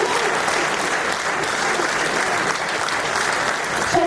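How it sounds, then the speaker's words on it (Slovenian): Dense, sustained applause from a concert audience in the Festival Hall at Bled after a song by a singer and her band, filling the hall evenly throughout. "Hvala za to primerni aplavz."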